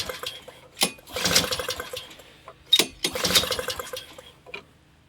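A Honda HS520 snowblower engine is cranked with no choke on a new carburetor, two loud pull-start bursts that cough and sputter briefly without catching, with quieter mechanical rattles between the pulls.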